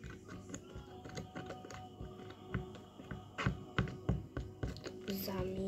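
A spatula stirs silicone and colouring in a container, giving irregular scraping clicks and soft knocks that come close and somewhat faint, briefly under a quiet voice.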